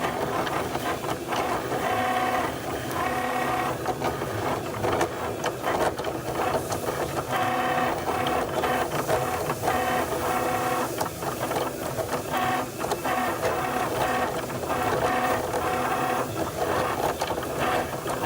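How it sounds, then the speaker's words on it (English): A Cricut cutting machine slices a heat transfer vinyl monogram for children's clothing, giving a steady, close mechanical whir with rapid rhythmic clicking and buzzing that runs without a break and without any talking. "It doesn't take long for you to, for the Cricut to cut your design or your monogram or whatever it is that you working on."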